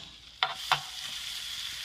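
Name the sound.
caper berries added to frying garlic and shallots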